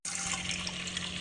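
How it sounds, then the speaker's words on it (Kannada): Water pours steadily into a pressure cooker holding washed lentils and green gram, a close continuous gushing splash lasting a moment. "ಇವಾಗ ನೀರು ಹಾಕ್ತೀವಿ"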